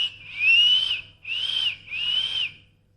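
A person whistles three rising-falling notes in a row, each about half a second long, close and clear against quiet background hum, with short gaps between them.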